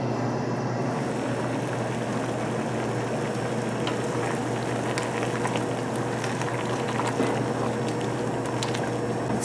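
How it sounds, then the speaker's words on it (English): Pumpkin jam cooking in a pot on medium heat, a soft continuous bubbling and simmering sizzle with faint crackles, heard alone at low level. "We're going to bring it to a boil until it's totally cooked."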